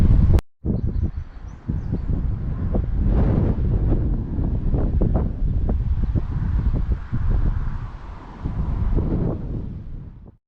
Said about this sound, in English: And I do apologise for the wind, but you know, I'm on a hill.